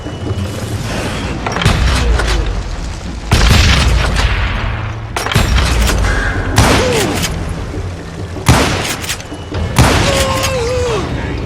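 Gunfire in the Western shooter Call of Juarez Gunslinger comes as several loud booming shots at uneven intervals, each followed by a ringing tail, with game character voices faintly in the mix.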